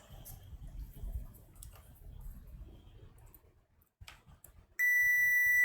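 A multimeter tester gives a steady continuous beep while probing a shorted diode pulled from an HP PS-4241-9HB power supply, the tone starting abruptly after a few soft handling clicks and rustles.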